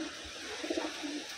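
A Wantai pigeon offered for sale gives a few soft, low coos in quick succession, faint and close, over a quiet background hum.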